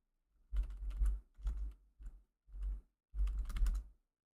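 Rapid keystrokes on a computer keyboard during a live sim-racing broadcast, clattering in four or five short bursts separated by brief pauses, close and fairly quiet, with no voices.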